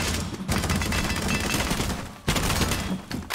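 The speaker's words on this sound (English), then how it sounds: "He's just shooting them through the floor." Dense, continuous gunfire in a first-person shooter game where a player is cheating, shooting through a floor; loud, overlapping bursts fill the clip with a brief break partway through.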